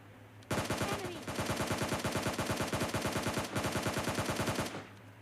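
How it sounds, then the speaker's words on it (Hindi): Rapid automatic gunfire in the mobile game PUBG Mobile Lite rattles out in one long, fast, evenly spaced burst of several seconds, with a brief hitch in the middle, sounding close and steady over a quiet game background. "मेरे ऊपर फायर शॉट्स आ रहे हैं सामने की तरफ से।"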